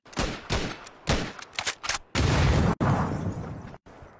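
Grenade blast and gunfire in a video game, a rapid series of loud sharp shots followed by a heavy booming explosion with a rumbling tail and a few more cracks.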